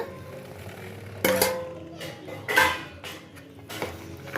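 A spoon stirs sapota kesari bath in a pan, giving a few close scraping clinks of metal in separate bursts, with a quiet kitchen in between.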